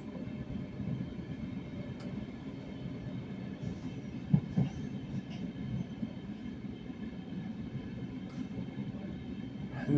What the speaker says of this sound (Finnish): Nyt junaa lähtee polkuttelemaan kiskoja.